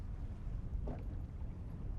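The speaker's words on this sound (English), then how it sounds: "it's getting really wild and windy down here now" Low, blustery wind rumbles across the microphone beside water while perch fishing, in a steady buffeting roar, with a faint brief splash or rustle partway through.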